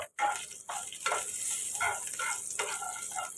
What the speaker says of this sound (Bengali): এবারে আমি তেলের মধ্যে অ্যাড করব হিং